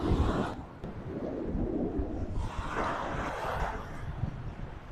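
Steady, rushing wind buffets the microphone at Lady's Mile Beach in Limassol, Cyprus, with gusty swells rising and falling throughout.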